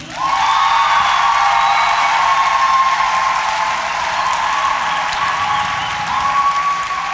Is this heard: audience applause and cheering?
yes